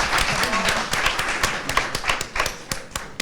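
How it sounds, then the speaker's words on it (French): Sparse, distinct hand claps from teammates and a studio audience on a French television quiz show, individual sharp claps spaced irregularly and thinning toward the end. "Aimé Jacquet, applaudi par vos propres partenaires et par le public."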